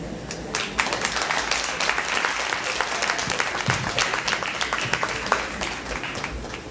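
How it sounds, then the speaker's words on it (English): Audience applause at a tea party held in a library, following a young harpist's performance; dense, steady clapping from many hands fills the room without pause. "we have to applaud that"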